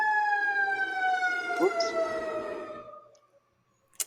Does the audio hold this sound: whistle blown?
no